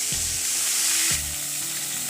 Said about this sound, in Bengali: তেলটা বেশ ভালো মতো গরম হয়ে গেলে আমি মাছগুলো ছেড়ে দিচ্ছি।